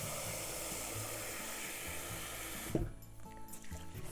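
Water runs from a tap into a bowl of rice for rinsing, a steady rushing stream that stops abruptly with a small knock, leaving quiet faint trickles after.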